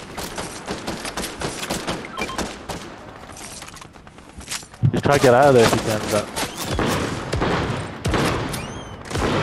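Rapid bursts of gunfire and impacts in an online shooter video game, loud and repeated over several seconds, mixed under excited player voices talking.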